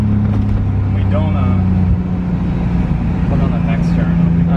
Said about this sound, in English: You hear like a little bit of a whine? Yeah, I hear it. Just a supercharger, no big deal.